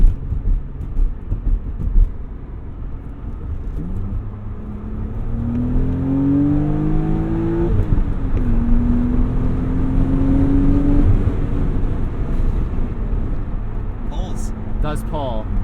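A 1999 Dinan M Roadster with its S52 inline-six accelerating from inside the cabin, engine note rising through two pulls with a gear change between, steady road roar underneath; occupants talk briefly.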